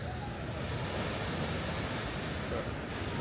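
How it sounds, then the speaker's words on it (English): Ocean waves seen from a cruise ship, a dense continuous roar of surf with wind buffeting the microphone, steady and loud throughout without talk. "The waves are crazy."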